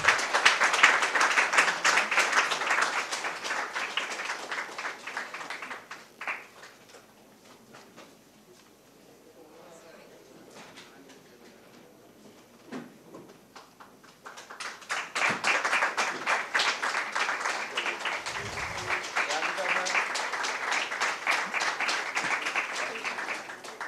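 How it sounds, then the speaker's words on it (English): Applause from the audience at a national youth summit session in New Delhi, a loud, dense burst that fades into a quiet lull with scattered claps before swelling again strongly. "Come on, you can do better than this with your applause."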